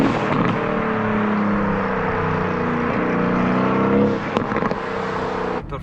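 Tuned 600 hp Mercedes-AMG GT S engine holds a loud, close rev, drops off briefly with a crackling burst near the end, then revs up again, with no talking.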